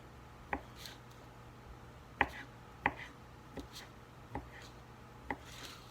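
Knife chopping through meat on a board, six or so sharp, sparse cuts spaced unevenly, close and fairly quiet over a faint background hum.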